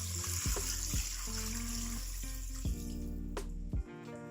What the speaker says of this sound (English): then cover it with 2 quarts of water